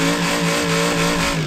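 Car engine revving loudly and continuously during a drift in the BeamNG.drive driving game, a steady strained roar with harmonics rising and falling in short cycles, close and alone.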